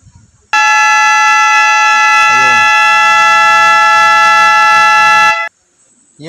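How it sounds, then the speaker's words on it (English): An electronic scoreboard buzzer sounding automatically as the timer runs out on a repaired scoreboard, one loud continuous harsh tone lasting about five seconds, starting and stopping abruptly, with a brief voice underneath. "nung naubos yung time, automatic nag-buzzer tong buzzer kahit na hindi natin pinindot tong kanyang buzzer button"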